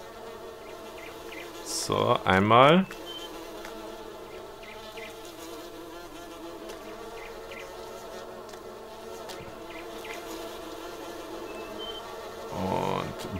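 Bees buzz around the hives in Farming Simulator 19, a soft steady insect hum in the background. Someone speaks briefly, and two loud louder bursts interrupt it.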